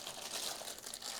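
Plastic cling film wrapper around a Donner Arena 2000 multi-effect pedal being opened, giving brief close crinkling and rustling bursts with no talking.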